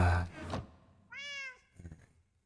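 A cat in a Minecraft game gives one short, clear meow between softer thumps and rustling sounds, with no voices.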